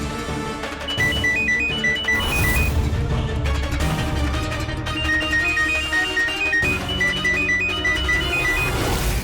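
A phone ringtone plays a loud, repeating electronic melody over dramatic background music in the Indian crime drama CID.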